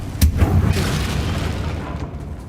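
A Confringo blasting spell explodes in Hogwarts Legacy: one sharp, loud boom near the start, then a long rumbling tail that slowly fades out. No one speaks over it.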